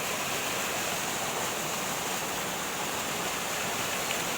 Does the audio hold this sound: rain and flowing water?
yes